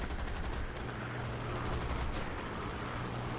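Aircraft machine gun fire from a World War II fighter flight game with a Typhoon Mk 1a, heard as a steady broadband rattle over constant engine drone, with no voices.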